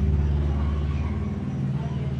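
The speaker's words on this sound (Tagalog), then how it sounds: "Ang ingay ng tricycle, wait lang guys." A motor tricycle engine drones past nearby, a loud continuous low rumble that stays steady through the short stretch.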